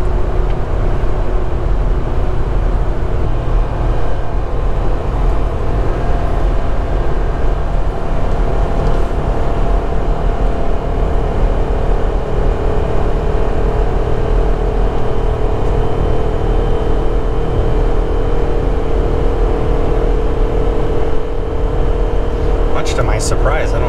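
A 2020 Jeep Gladiator Sport Max Tow pulls a travel trailer down the road, its engine and tire noise forming a loud, steady in-cabin drone with a low hum and road roar that barely changes throughout.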